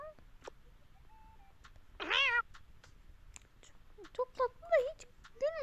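Several cats in a room meowing, a series of short close meows and one longer drawn-out cry, spaced irregularly over quiet background.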